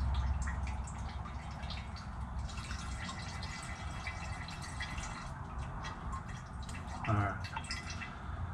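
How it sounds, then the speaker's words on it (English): Last of the engine oil trickles and drips from the drain on a knocking Pontiac Trans Am during an oil change, a steady faint liquid patter with a brief louder splash near the end. "Trying to get the very last of it, because the very last of it's usually what shoots some stuff out."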